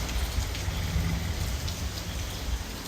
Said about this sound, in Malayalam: ഇവിടെ നല്ല മഴ അത് ഞങ്ങൾ ഇങ്ങനെ സിറ്റ് ഔട്ടിൽ ഇരിക്കുകയാണ് നല്ല മഴ കേട്ടോ